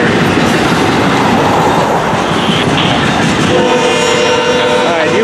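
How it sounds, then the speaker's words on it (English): A loud Florida East Coast Railway train rumbles past with rattling wheels and a sustained horn blast toward the end, close and continuous. "you can hear this train"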